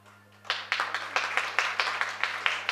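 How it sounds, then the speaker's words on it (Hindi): Scattered clapping from a small audience at a theatre festival, a handful of distinct claps in an irregular rhythm over a steady electrical hum, fairly faint and without talking. "जोरदार तालियां होनी चाहिए"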